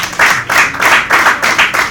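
Audience clapping hands at a wedding celebration, a dense, steady run of applause with rhythmic swells, close and loud throughout.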